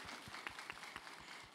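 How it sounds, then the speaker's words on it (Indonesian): Applause from a studio audience at an Islamic religious talk show, a faint, steady patter of many hands with some lower thumps mixed in. "Boleh dong tepuk tangannya sekali lagi jamaah."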